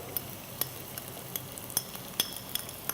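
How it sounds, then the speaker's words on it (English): Sliced garlic frying in a pan for a Malaysian dish gives a soft, continuous sizzle, broken by light, irregular metallic ticks and clinks of a utensil against the pan. "What I'm going to add next is add the garlic, sliced garlic."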